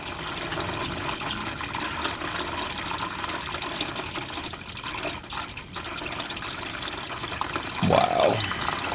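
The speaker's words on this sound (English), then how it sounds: "tell me how much water you've gotten out of an engine and still got it to run" Water drains steadily out of the AMC 304 V8 engine of a Jeep CJ7 left abandoned in the woods for years, a continuous close splashing trickle that runs throughout, with a brief voice near the end.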